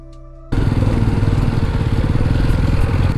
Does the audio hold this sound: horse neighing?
no